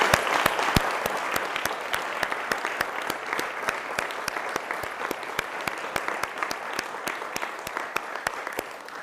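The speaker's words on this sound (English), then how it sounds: "So let's join together and give them all one more round of applause." Audience at a Government House investiture ceremony in Adelaide claps in a steady, sustained round of applause, many hands beating evenly throughout, moderately distant in a large room.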